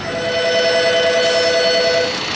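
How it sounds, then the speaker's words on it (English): A telephone rings inside an auto repair shop, a steady electronic ringing tone that holds through the whole stretch over a dense background hum of the shop. "Phone's ringing."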